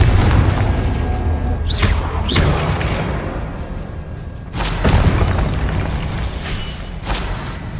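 Confringo fire spells from the Hogwarts Legacy video game burst in several loud booming explosions with whooshing tails, spaced irregularly over continuous rumbling game-battle noise.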